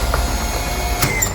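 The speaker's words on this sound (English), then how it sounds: "It's a screw gun." Screw gun driving screws into metal during a garage build, a steady close mechanical whirring with ratcheting clicks and a brief louder burst near the end, no talk.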